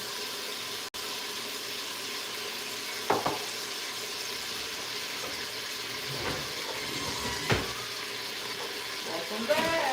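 Minced garlic sizzles in a pan with a soft, steady frying hiss and occasional stirring clicks, as a voice talks intermittently.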